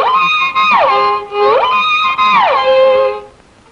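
A violin is played with a swinging arm motion in smooth, sustained bowed notes that glide up and down in pitch in repeating arcs, close and clear and alone.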